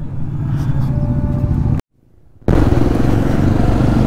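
Several motorcycles pull away from an Indian Oil petrol pump after refuelling on a group ride, their engines loud and close with revving, broken by a brief near-silent gap before the engine noise returns at full strength.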